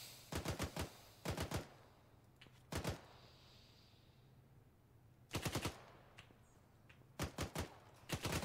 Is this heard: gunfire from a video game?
yes